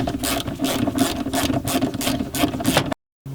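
A ratchet with a 12 mm socket unbolting a bolt on a yard-pulled B Series AWD, loud close rapid clicking in quick back-and-forth strokes that stops abruptly near the end, no speech.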